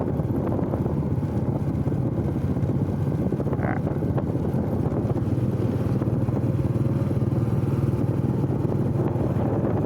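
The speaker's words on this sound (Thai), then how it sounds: "พูดถึงลมมันก็มากันเลยนะ" Wind blows into a microphone outdoors, a constant low buffeting rumble that fills the whole stretch with no break and no clear voices.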